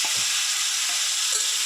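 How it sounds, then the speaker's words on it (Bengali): Pieces of pointed gourd frying in hot oil with turmeric in a kadai, a steady loud hissing sizzle throughout, with a few soft stirring knocks underneath and no talk. "তেলের মধ্যে পরিমাণ মতো হলুদ দিয়ে দিচ্ছি পটলগুলো ভাজার জন্য"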